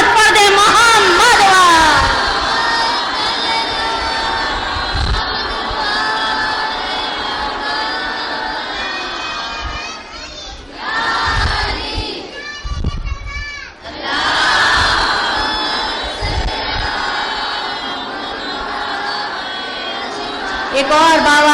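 A large crowd at an imambargah majlis recites salawat loudly in unison in response to a call, a sustained mass of voices with shouting swells, heard near and continuous.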